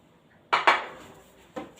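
Egg and oil are mixed in a bowl, with a few quick utensil clinks against the bowl: two close together, then a softer one a second later, with quiet in between.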